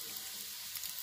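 Gnocchi pan frying, a steady soft hiss of sizzling with faint clicks of stirring throughout, fairly quiet and even with no voices.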